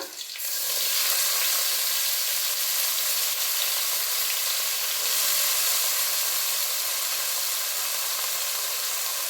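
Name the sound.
fresh green peas and chillies frying in oil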